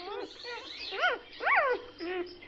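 Small Yorkshire Terrier dogs give a series of high, rising-and-falling yips and whiny barks, about four distinct calls in close succession, fairly near.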